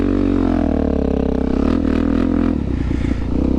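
A Suzuki DRZ400 dual-sport motorcycle idles and putters close by as it turns around off-road, its engine note shifting partway through with some clattering and scraping over steady low rumble.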